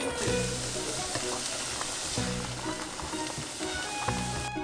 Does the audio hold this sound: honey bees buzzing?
no